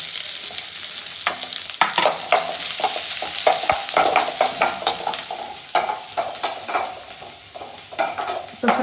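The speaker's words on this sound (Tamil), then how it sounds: "இப்போ வெங்காயத்தையும் மிளகாயும் சேர்த்துக்கலாம்." Onion and chili frying in oil, loud and close, with a bright continuous sizzle and frequent scraping stirs of a spatula against the pan.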